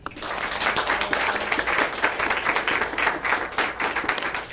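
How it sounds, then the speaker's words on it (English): A round of applause for a newly chosen school district superintendent at a press conference, moderate clapping from a modest crowd, steady and unbroken for several seconds. "Please give a round of applause to Miss Joan Ebert"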